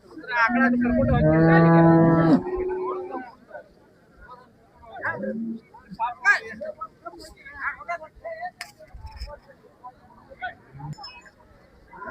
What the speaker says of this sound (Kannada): ಫ್ರೆಂಡ್ಸ್ ಇಲ್ಲೊಂದು ಎರಡು ಹಸುಗಳದಾವ ನೋಡ್ರಿ